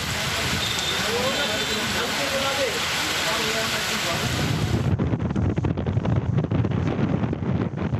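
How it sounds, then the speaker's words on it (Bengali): Strong storm wind roars steadily into the microphone at Mongla port, Bangladesh, a dense rushing noise that suddenly thins and becomes choppier partway through. "প্রচণ্ড গতিবেগে বাতাস বয়ে যায় মোংলা বন্দর এলাকায়"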